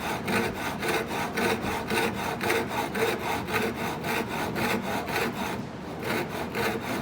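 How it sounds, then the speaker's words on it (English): Hand saw cutting a delicate wooden dovetail joint, a steady back-and-forth rasp of strokes, close and even, with a brief pause near the end before sawing resumes. "Just listen for that saw chain sound just as you're getting to the end."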